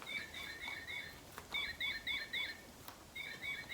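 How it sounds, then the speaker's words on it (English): A titmouse chirps in short repeated bursts of high, clear notes, a few phrases with pauses between, fairly quiet against a soft background hiss. "this little bird is called the titmouse"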